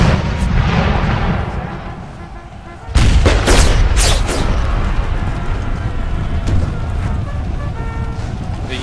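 Artillery and musket fire in an Empire: Total War American Civil War battle, repeated booming cannon shots and crackling volleys, loudest from about the third second onward, with a voice talking over them.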